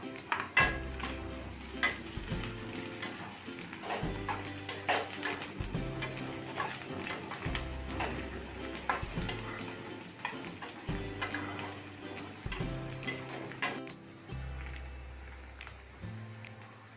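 Finely chopped green chili and onion fry in a pan, a soft steady sizzle with light stirring and small clicks, accompanied by a repeating low background tune and no talking.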